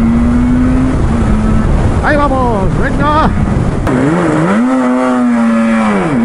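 A Yamaha RD 500 two-stroke motorcycle at a classic club ride-out in Gipuzkoa revs loud and close, its raspy engine note climbing and falling through repeated throttle blips as someone speaks briefly over it.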